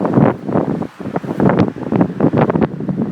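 Wind on the Mount Rushmore viewing terrace: loud, gusty buffeting against the microphone that swells and dips continuously, close and rumbling, with no talking.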